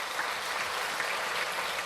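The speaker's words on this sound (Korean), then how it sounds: "우리 박수로 하나님께 영광을 돌립니다" A congregation at a mountain revival service at a church summer gathering claps in praise, a dense steady wash of applause from many hands, fairly distant and even throughout.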